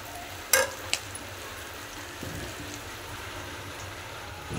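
Fried tempering is poured into a pot of khichuri. One sharp clatter and a second knock open the clip, followed by a soft, steady sizzle that continues to the end.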